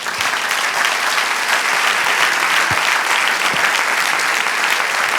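A church congregation applauds during a worship service, dense sustained clapping from many people filling the room throughout.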